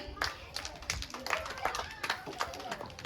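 Children clapping at a school Children's Day celebration, a scattered burst of hand claps mixed with voices and movement in a busy hall.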